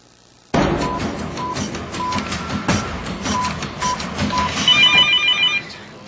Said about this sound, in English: So imagine her surprise when she gets this phone call.